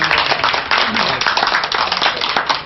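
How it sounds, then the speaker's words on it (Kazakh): An audience claps hands in steady applause at a celebration gathering, a dense, continuous patter of many hands close and fairly loud for a few seconds, fading slightly at the end. "Болса рұқсат бергендеріңізді шапалақ ұрып қойыңыздар."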